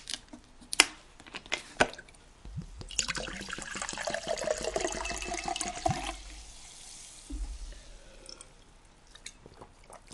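Gerolsteiner sparkling mineral water pours and fizzes into a glass for several seconds, with a fine crackle of bubbles, preceded and followed by a few soft clinks and handling knocks close to the microphone.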